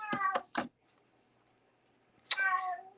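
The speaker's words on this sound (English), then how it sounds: "My cat is also saying hello to all of you, as he likes to do." A pet cat meows indoors, two quick close calls followed by a third, then a longer drawn-out meow after a pause of quiet, loud and near with no talk over it.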